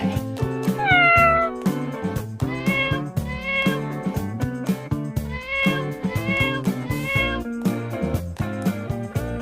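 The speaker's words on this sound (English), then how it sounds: "C for cat." A cat meows several times over a bouncy, rhythmic musical backing, the meows clear and up close.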